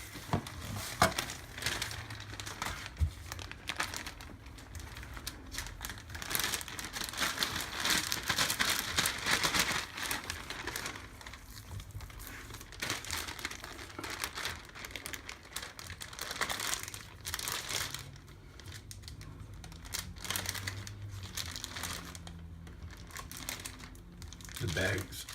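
Thin plastic curing bag from a home bacon kit crinkles and rustles as a slab of pork belly is slid inside, a steady close crackling that runs throughout with occasional voices underneath.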